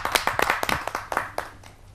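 Applause from a crowd at a Hindi poetry recital, with dozens of overlapping claps that peak early and slowly thin out over about two seconds.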